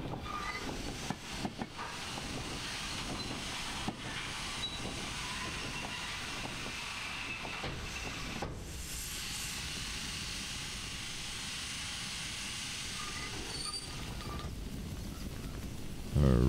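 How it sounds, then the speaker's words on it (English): A steam locomotive releases its steam dump in the Derail Valley railway simulator, heard as a steady broad hiss that runs the whole time at moderate level, with faint mechanical rumble underneath and no talking. "Where's the steam release? Steam"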